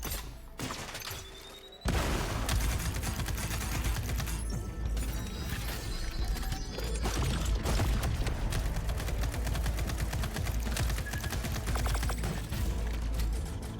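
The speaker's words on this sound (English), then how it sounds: "Let's toss a thruster grenade to deal massive damage." A thruster grenade detonates against an armored turret in a video game, loud and dense with crashing, shattering and rapid gunfire-like bursts continuing without a break after a sudden onset.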